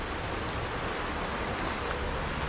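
A swollen mountain river in the Dolomites, its high water rushing in a steady, dense broadband roar that fills the whole stretch without pause, close and loud with no voices.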